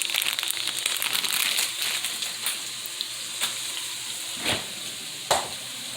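Cumin and other spices frying in a pan for a spicy green chicken chile white bean soup, giving a steady fine sizzle with scattered crackles and a few louder stirring scrapes near the end.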